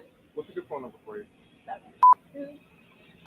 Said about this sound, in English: Well-placed beeps.